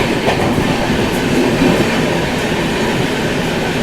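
Bilaspur–New Delhi Rajdhani Express rolling slowly along rails through a ghat section at night, a steady loud rumble with faint clatter from inside the coach, continuous and unbroken.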